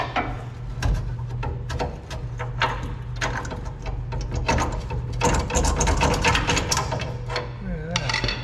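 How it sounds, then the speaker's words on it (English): Ratchet tightening a bolt while installing a used lift kit on a Toyota Tacoma, with rapid clicking strokes in quick bursts close by over a low steady hum. "Try to get this bottom bolt in."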